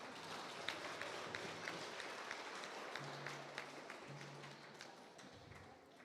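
Graduation ceremony audience clapping for a participant, a moderate, fairly faint patter of hands with some individual claps standing out, tapering off toward the end with a low hum underneath.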